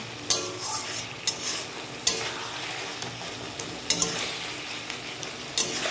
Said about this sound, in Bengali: এবার এটাকে ভালো করে আমি নেড়ে নিচ্ছি।